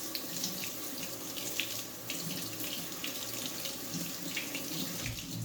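Tap water runs steadily into a sink while bean sprouts are rinsed in a salad spinner, a continuous close splashing rush with no speech.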